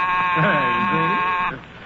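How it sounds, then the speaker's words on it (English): A steady, loud electric buzzing tone rings for about a second and a half, then cuts off, with a voice faintly audible underneath. "I press the button, the buzzer rings."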